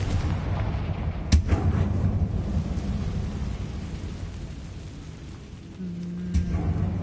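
A Confringo fire spell in the Hogwarts Legacy video game lands as a heavy rumbling blast, with a sharp crack near the start and another boom toward the end over a steady roaring wash of game ambience.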